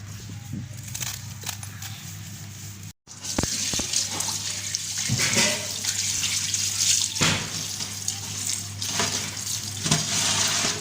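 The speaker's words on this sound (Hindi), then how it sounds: "साग को हम धो रहे हैं, धो के अच्छी तरह।" Mustard greens washed in a kitchen sink, running tap water rushing and splashing steadily and close, with louder sloshes as the leaves are handled.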